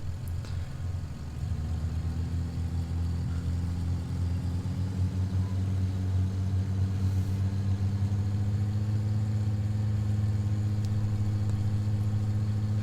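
Piston engine of a DeHavilland Dove in the FS2004 flight simulator during a run-up, holding a loud, steady, droning hum with a rising harmonic whine as the engine settles into a constant run.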